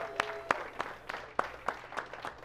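Applause at a LinkedIn Local networking event is thin and sparse, just a handful of separate claps spaced out over a couple of seconds from a small group, fairly quiet.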